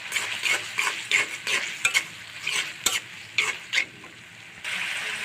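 Prawn curry spices with green chilli paste, turmeric, salt and raw tomato being sautéed and stirred in a pan, close and steady sizzling broken by repeated scraping stir strokes, no voices.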